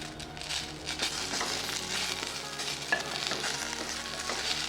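Sesame seeds and curry leaves sizzle and crackle in hot oil in a pan for a Telugu gongura and ridge gourd peel chutney, with a steady, dense frying hiss and a few sharper pops throughout and no one speaking.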